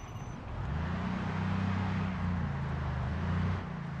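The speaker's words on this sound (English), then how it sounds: "That's right, follow the loud car." A car engine in the zombie survival video game Project Zomboid drones loudly and steadily, a low humming rev that holds and wavers slightly before dropping back.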